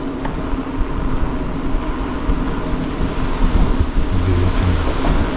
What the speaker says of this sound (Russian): Слушайте, прямо как цикады поют.